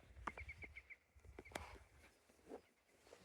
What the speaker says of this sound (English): Hear the green woodpeckers?